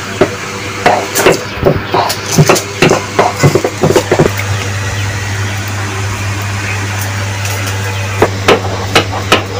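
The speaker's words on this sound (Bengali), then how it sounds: "আমি রসুনটাকে ছেঁচে দিচ্ছি।" Garlic crushed by pounding in a village kitchen, heard as loud, close, repeated thuds in uneven bursts that pause midway and resume near the end.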